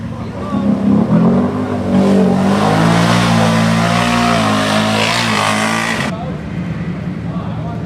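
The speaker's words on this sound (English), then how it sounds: "A lot of bikes down here and quads today." Motorbikes and quads riding past at an abandoned concrete site, a loud steady engine roar that rises and holds for several seconds before cutting off, with road noise continuing.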